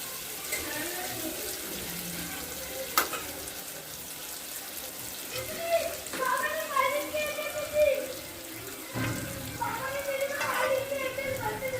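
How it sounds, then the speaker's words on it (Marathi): Water pours briefly into a pan of prawns with splashy trickling, followed by soft sizzling and clinks over low heat, while a voice talks intermittently nearby. "पाणी घालायचं आहे थोडंसं"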